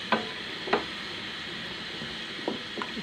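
Potatoes frying in a pot for pulao, a steady low sizzle with a few soft clicks and knocks of stirring, heard near and moderately quiet.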